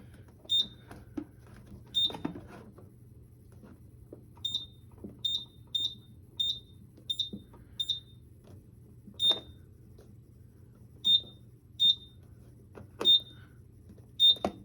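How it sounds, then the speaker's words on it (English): A smoke detector under a magnet test on a 4010 fire alarm system chirps short high-pitched electronic beeps repeatedly at irregular intervals over a low steady hum, quiet and close, with no talking. "now we're gonna magnet test the smoke detector."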